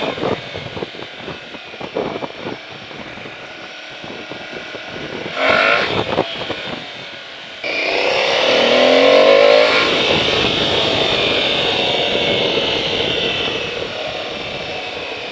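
Aprilia Tuareg 660 adventure motorcycle engine sputtering and surging unevenly while being ridden, with loud, continuous wind rush and road noise swelling over the running engine.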